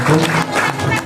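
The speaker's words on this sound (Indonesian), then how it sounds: "Ya, tepuk tangan tuh Bapak Ibu sekalian" Seminar audience claps loudly and densely in a brief, close burst of applause with a murmur of voices mixed in.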